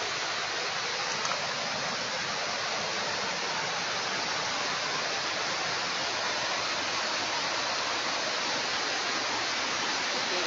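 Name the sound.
waterfall at Sungai Gabai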